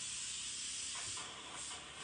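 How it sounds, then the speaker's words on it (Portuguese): Pressure cooker on a home stove, a steady, fairly loud hiss of escaping steam running continuously with slight swells and dips. "Alguém vê para mim se a panela pegou pressão aí."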